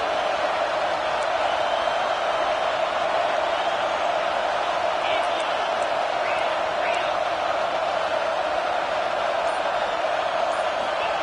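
A football stadium crowd roars in a steady, distant wash of noise that holds evenly throughout, with no clear individual voices standing out.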